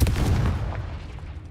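A Confringo explosion spell bursts in Hogwarts Legacy, a single loud, deep blast that rumbles and fades over a second.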